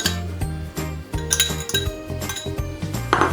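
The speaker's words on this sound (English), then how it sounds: "Next we're going to put in the egg. Just give it a quick beat" An egg beaten quickly in a bowl for pizza bread dough, giving a run of rapid clinks and taps against the bowl, close and steady over background music.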